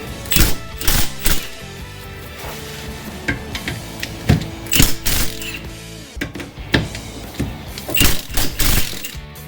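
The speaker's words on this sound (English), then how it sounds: "Alright, I'm going to use my impact wrench." An impact wrench works on a differential bolt of a C4 Corvette, firing in loud, sharp rattling bursts separated by short pauses, close to the listener.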